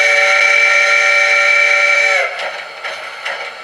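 A Reading six-chime steam locomotive whistle from a model train sound decoder sounds one long, steady, loud chord for about two seconds, then trails off into fainter hiss and brief toots, with no voices.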